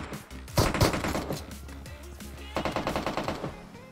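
Gunfire in the mobile battle royale game PUBG Mobile: a loud close burst of rapid shots, a short pause, then another quick volley of automatic fire.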